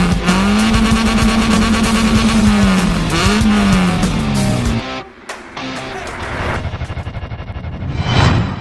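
A Honda CB Hornet 1000 motorcycle with a 1000cc inline four-cylinder engine revs loudly up close at the Makina Moto Show, its pitch rising and falling in sustained pulls before dropping away and then rising again in shorter blips.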